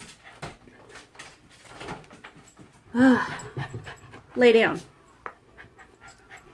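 Pet dog indoors whimpering and panting in quick, uneven bursts, with two louder whining cries. A person speaks briefly over it.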